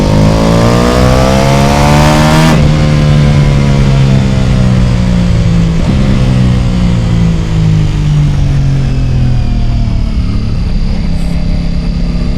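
A Ducati Pikes Peak motorcycle with a BT Moto stage 1 exhaust upgrade roars loudly up close, its engine revving and climbing through gears in a continuous throaty drone with rising pitch sweeps.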